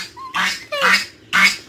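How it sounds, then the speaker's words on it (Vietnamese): A goose on a rural farm squawks loudly three times close by, each harsh honking call short and separated by brief pauses. "con ngỗng thì nó đang kiếm chuyện mình các bạn"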